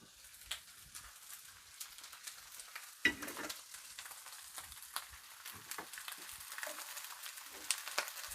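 Cabbage wedges sear in a hot pan with a steady, faint sizzle and crackle, joined by occasional louder pops and scrapes of handling, with no talking.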